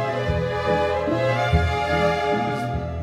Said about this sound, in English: Now, let's just hear the second subject of Anitra's dance.